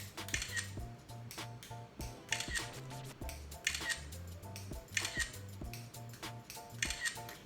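Repeated bursts of an iPhone camera shutter firing off selfies in quick succession, sharp clicks grouped in regular clusters over a steady background, no talking.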